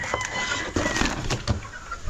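Farm chickens clucking and calling close by in a rural yard, with several short bursts and scratchy movement over a steady outdoor background.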